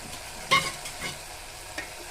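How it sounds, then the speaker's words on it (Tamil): A spoon scrapes and stirs goat trotters in a frying pan a few times over a soft, steady sizzle. No one speaks. "கொஞ்சம் கிளறி விட்டுக்கலாம்."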